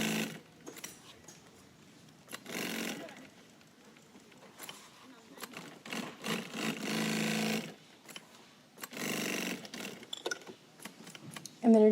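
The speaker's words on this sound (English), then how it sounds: "You're going to sew a 2-inch loop to the front of the pocket back, and it's going to be at both ends" Sewing machine stitching a 2-inch loop onto the back of a pocket, running in several bursts of mechanical whirring with short pauses between runs, with speech heard over parts of it.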